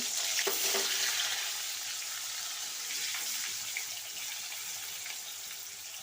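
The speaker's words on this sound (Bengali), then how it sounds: "এবার কুমড়োগুলো ভেজে নেব" Pumpkin pieces for vegetable khichuri frying in hot oil: a continuous loud sizzle, close and steady, with a few stirring clatters near the start, no talk.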